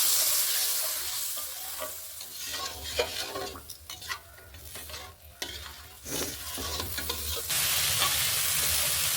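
A masala paste of salt, green chilli and turmeric with a splash of water sizzles and is stirred hard in a pan for a mixed winter vegetable labra, giving a continuous close hiss broken by scraping strokes.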